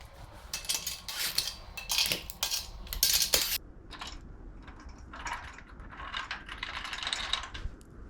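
A ratchet tightens nuts and washers while a compact leg press and hack squat machine is put together, giving bursts of rapid close clicking with brief pauses and some metallic clinks between them.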